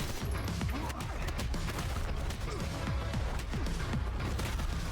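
Dense, continuous gunfire in the video game Kiborg, loud and sustained with rapid overlapping shots and crashes throughout, a faint voice now and then beneath the combat.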